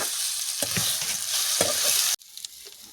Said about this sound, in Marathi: थोडंसं हलवून घ्यायचं